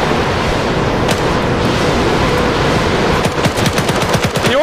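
Katyusha rocket artillery fired in the WWII Arma 3 battle for Berlin, a loud continuous roaring barrage with rapid crackling bursts that grow more distinct toward the end.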